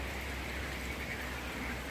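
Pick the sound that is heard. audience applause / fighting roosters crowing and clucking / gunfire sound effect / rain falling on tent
rain falling on tent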